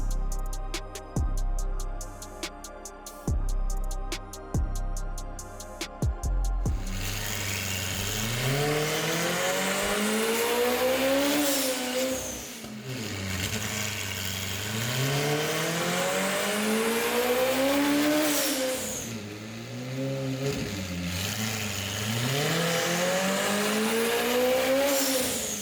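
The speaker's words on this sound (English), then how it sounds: "We poured the ethanol into the car, we did a hit, and obviously usually it would go all the way to redline." McLaren Senna V8 running on ethanol blended with a little nitromethane, first idling with sharp rhythmic pops, then revving hard through repeated rising and falling sweeps, loud and close with no talk.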